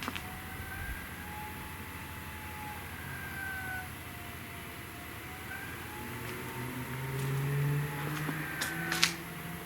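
A siren wails far off near Koujiya Dam in Japan, a faint wavering tone rising and falling slowly over a quiet hiss, with a few soft clicks and hums near the end.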